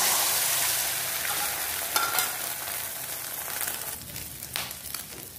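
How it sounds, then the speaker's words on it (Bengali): An egg omelette fries in a pan, giving a dense, steady sizzle with faint crackles and a few soft scraping touches, close and continuous, fading slightly toward the end, with no voices. "অমলেটগুলো আমার ভাজা হয়ে গেল"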